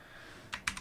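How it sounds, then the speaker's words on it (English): A few quick keystrokes on a computer keyboard, three soft clicks near the end after a quiet stretch, close and faint. "I'm going to type lorem 20"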